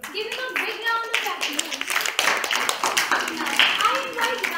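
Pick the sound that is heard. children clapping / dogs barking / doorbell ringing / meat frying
children clapping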